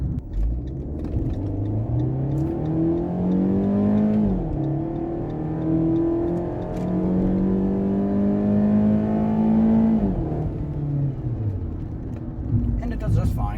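A Fiat 500 in sport mode pulls away at about quarter throttle, its engine note rising steadily through two upshifts and falling off. Someone talks over the engine's steady drone throughout.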